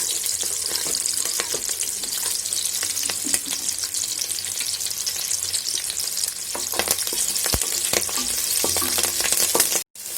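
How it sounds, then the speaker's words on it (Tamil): Loud, continuous sizzling of onions and garlic frying in oil with occasional scraping and stirring clicks; the sound cuts off abruptly near the end. "இப்போது வெங்காயம் நல்லா வதங்கிருச்சு."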